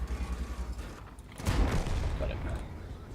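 Tank gun fire in the World of Tanks video game, with a Hellcat tank destroyer in the fight: a single deep boom in the middle over continuous engine and battle rumble, with talk underneath.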